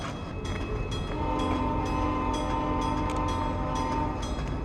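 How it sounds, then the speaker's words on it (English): A Cleveland lift bridge horn in American Truck Simulator blares a sustained, steady tone that resembles a muted train horn, heard over constant rumbling ambience in the game. "Hear the bridge? That's the bridge horn."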